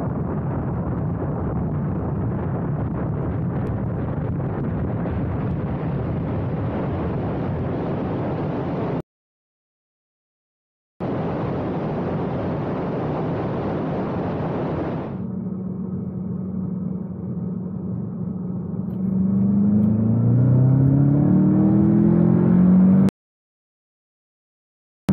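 A car with an APR Stage 1 tune running 91 octane fuel accelerates hard on speed runs. A loud, steady roar of engine and road noise breaks off once, then an engine note climbs steadily in pitch as it pulls.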